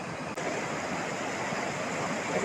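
A river in Davao de Oro, flooded after heavy rain, rushes steadily as a dense, loud, continuous roar of churning water with no pauses and no voices.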